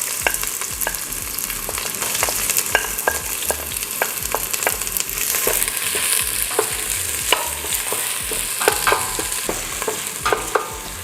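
Onion sizzling in hot oil in a pan for a Filipino pork curry, a steady close frying hiss punctuated by frequent sharp stirring clicks and scrapes, with no talk.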